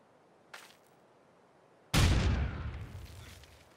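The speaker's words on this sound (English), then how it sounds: "Now the grenade on top of the Maxim." A grenade blasts a Maxim machine gun crew in Company of Heroes 2: a sudden loud, close boom after a faint earlier pop, its rumbling roar slowly trailing off over the next couple of seconds.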